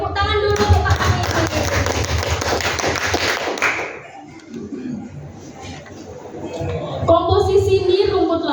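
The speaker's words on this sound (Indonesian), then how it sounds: "Tepuk tangan dulu untuk Pak Amir." Classroom applause for Pak Amir during a microteaching lesson: a burst of clapping from a small group lasting a few seconds, then dying down into quieter room sounds before a voice resumes.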